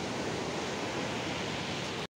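Big ocean waves wash against the shore in a continuous loud broadband roar of surf, steady throughout and cutting off abruptly at the end, with no voices.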